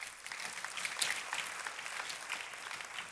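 A congregation at a Telugu church sermon bursts into steady, dense applause, a continuous wash of clapping hands filling the space from start to finish with no speech over it.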